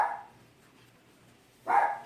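A pet dog barks twice indoors, one bark at the start and one near the end with a quiet gap between, each loud and close.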